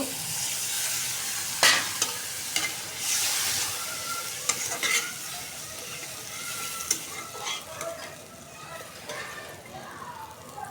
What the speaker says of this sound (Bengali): এখন একটু কষাই নেব।